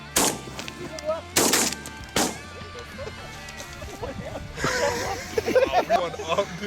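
Three loud, close shotgun blasts ring out during an early-September Michigan goose hunt, spaced about a second apart, followed by voices talking and rustling movement in the field.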